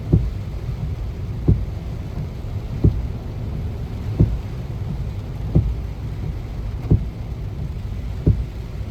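Rain during a morning commute to work in Samut Prakan, Thailand, a steady wash of rainfall noise with soft, evenly spaced low thumps about every second and a half.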